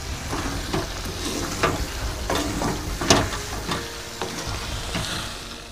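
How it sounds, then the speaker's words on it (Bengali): Garam masala is stirred into Bengali chicken kosha frying in a pan: a continuous sizzle with scraping spoon strokes and bursts of crackle at an uneven rhythm, close and fairly loud, with no talking. "গরম মশলাটাকে ভালো করে মাংসের সঙ্গে মিশিয়ে নেব"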